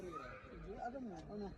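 A horse neighs and whinnies during a horse-riding outing, its wavering cry rising and falling for under two seconds while people talk over it nearby.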